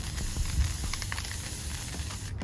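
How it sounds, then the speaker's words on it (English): Adhesive spray from an aerosol can being sprayed onto a cup for glitter, a continuous close hiss lasting the whole moment without talk. "Okay, so we're gonna go ahead and spray our adhesive spray."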